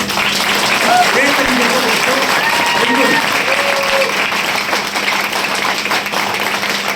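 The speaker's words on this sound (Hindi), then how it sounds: "तो तालियां एक बार ऐसे ही बजा दो" Seminar audience clapping on request, a dense steady wash of applause lasting throughout, with faint voices and calls mixed underneath.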